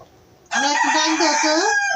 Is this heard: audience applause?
no